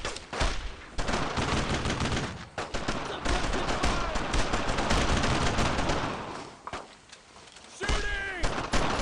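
Sustained suppressing gunfire in the World War II shooter Brothers in Arms: Road to Hill 30, dense overlapping rifle and machine-gun volleys rolling almost without pause, loud and close, with shouted voices mixed in.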